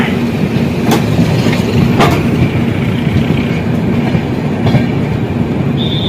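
The Bihar Sampark Kranti superfast express runs on rails between Darbhanga and New Delhi, with a loud, steady rumble and clickety-clack of wheels on track and a few sharp knocks along the way.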